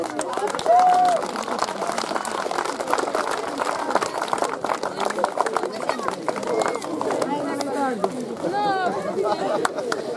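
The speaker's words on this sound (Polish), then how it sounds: "wielkie brawa dla drugiego miejsca, dla Wałdyk" A crowd claps for the second-placed youth fire brigade team at a municipal firefighting competition awards ceremony in Szczepankowo; dense, continuous applause fills the air beneath an announcer speaking loudly throughout.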